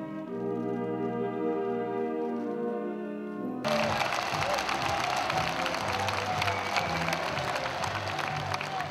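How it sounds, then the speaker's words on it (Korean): Audience applause breaks out at a Vietnam War veterans' anniversary ceremony and national security rally, a sudden dense burst of clapping that cuts in after a stretch of sustained music and continues steadily to the end. "여러분 다시 한번 뜨거운 박수로 환영해 주시는 대단히 감사하겠습니다."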